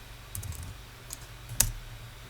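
Computer keyboard typing while writing a Ruby on Rails cron schedule file: a few quiet, sparse key clicks with one sharper tap near the end, over a faint low hum.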